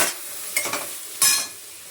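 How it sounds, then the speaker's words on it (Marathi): Turmeric and cabbage dropped into hot oil in a pan for a simple cabbage dish, giving a couple of short, close sizzling bursts and stirring scrapes that fade quickly. "तेलामध्येच 1 चमचा हळद घातली"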